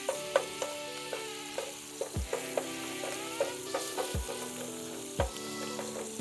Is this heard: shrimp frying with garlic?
yes